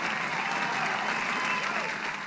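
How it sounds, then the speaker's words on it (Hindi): Studio audience on a quiz show clapping in a dense, steady burst of applause that carries evenly throughout with no voices over it. "जोरदार तालियां हो जाएं।"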